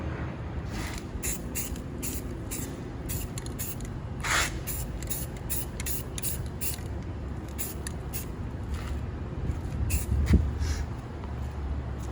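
Teal spray paint hisses from a can onto a mini-golf course figure, shading under a ball cap, in many short close bursts with brief pauses between them.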